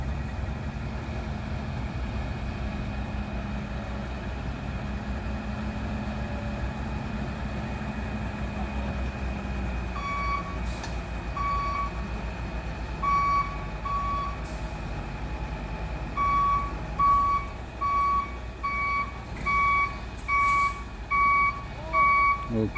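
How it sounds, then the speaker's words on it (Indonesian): A Hino truck idles with a steady low rumble while reversing to tow another truck, its reversing alarm beeping in a regular repeating pattern, growing more continuous toward the end. "di sana truk Hino mundur untuk menarik fuso factor."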